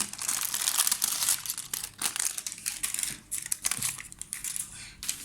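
Baking paper crinkles and crumples as a baked sponge cake is turned out onto it, a close, irregular rustling with sharp crackly bursts throughout.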